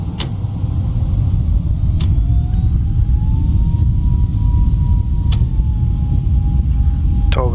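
Airbus A321neo jet engines spooling to takeoff thrust in a flight simulator, a loud steady roar with a rising whine that climbs and levels off, sharp clicks punctuating it throughout.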